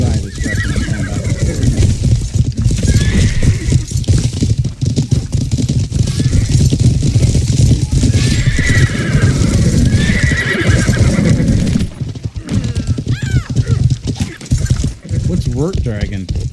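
In the medieval game Life is Feudal, horses whinny and hooves clatter amid loud battle noise, with players talking over the action throughout.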